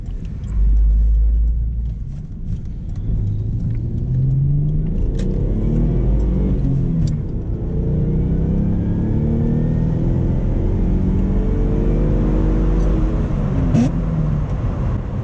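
A long-neglected VR4 car engine roars steadily up through its range toward 100, with rising and falling pitch sweeps as it shifts poorly through gears, heard from inside the vehicle.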